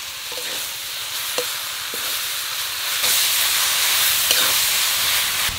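Boiled Malabar spinach hits a hot pan of salted onions, sending up a steady loud sizzle and hiss that swells midway, with faint stirring clicks and no talking.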